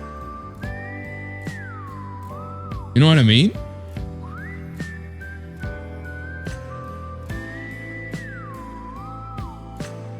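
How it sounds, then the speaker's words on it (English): A melodic whistled tune runs through a song over a steady beat, with a brief burst of loud vocal sound midway and a voice speaking briefly. "I love when they put like whistling in songs though."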